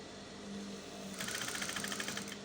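Sewing machine stitching pleats into a flared umbrella-yoke blouse, starting with a soft steady hum and then breaking into a rapid, even run of stitching clatter partway through, close up with no talking.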